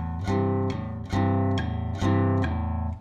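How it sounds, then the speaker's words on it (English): Four strummed guitar chords ring out about a second apart, each one bright and full, sustaining until the next strum. "I can actually strum it each time, like so"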